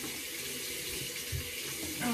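A tap runs steadily into a sink for face washing, a close hissing stream of water that continues unbroken, with faint voices underneath near the end.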